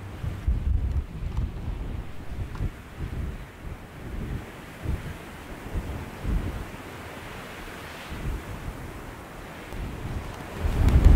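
Strong gusting wind, around 40 to 70 km/h, on the coast of the Norwegian island of Selvær near Træna, roaring and buffeting the microphone in loud low surges, with no voices present.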